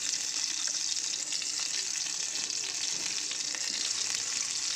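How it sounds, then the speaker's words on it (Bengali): Stuffed pointed gourds, potol, fry in hot oil in a kadai, giving a loud, dense, continuous sizzle that stays steady throughout with no talking. "এই পুর ভরা পটলগুলো এবার আমি তেলে কিন্তু ভেজে নেবো এক এক করে"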